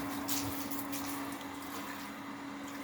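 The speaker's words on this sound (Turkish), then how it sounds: "Suyla fırçayla güzel güzel burayı temizliyoruz arkadaşlar" Water splashes and scrubs steadily as a brush cleans an outdoor surface in a rural village yard, a continuous close wash of liquid sound with a low hum beneath it.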